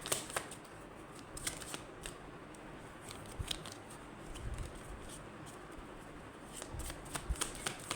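Tarot cards are shuffled by hand close up, a soft riffling patter with crisp flicks and taps as cards are drawn, quiet and steady without talk.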